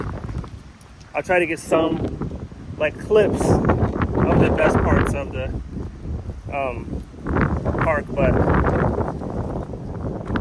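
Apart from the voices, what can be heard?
wind blowing outdoors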